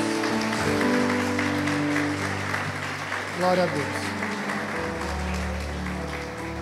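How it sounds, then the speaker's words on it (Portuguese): A church congregation applauds during a worship service, steady clapping spread through the room beneath someone speaking and sustained music. "Você pode aplaudir ao Senhor mais uma vez, bem forte?"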